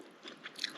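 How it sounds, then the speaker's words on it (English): Close, crisp crunching of garden-grown raw kale being chewed, a few quick bites in under a second, faint and intimate. "The kale is so good from the garden. You can hear still how crunchy it is."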